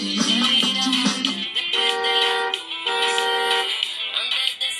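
A toy electric Volkswagen Beetle ride-on car's horn plays a bright electronic tune loudly with sustained synthetic tones, shifting between a few steady pitches, no talking.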